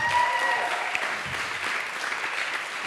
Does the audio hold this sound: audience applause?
yes